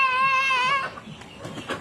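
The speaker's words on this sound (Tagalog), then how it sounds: "Ayan po yung mga gansa namin." A goose gives a loud, drawn-out honking call up close, followed by softer rustling and faint farmyard noise.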